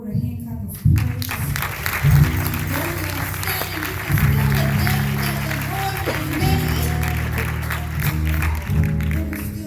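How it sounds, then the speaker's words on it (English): A congregation at a funeral service claps in praise. Rhythmic hand claps sit under sustained organ or keyboard chords and crowd voices, steady and fairly loud throughout. "give the Lord a hand clap of praise"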